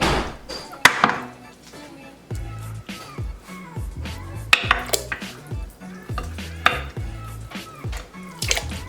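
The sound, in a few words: meat thrown into a big cooking pot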